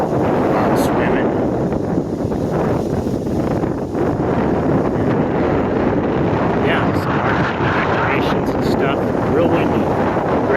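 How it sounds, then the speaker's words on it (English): Strong wind buffets the microphone outdoors near a beach and quarry north of Green Bay, a steady loud rumbling roar across the whole stretch with no break. "Real windy."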